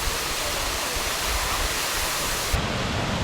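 Giant waterfall in Kings Canyon National Park roars as a constant, dense wash of falling water, loud and steady throughout with no talking.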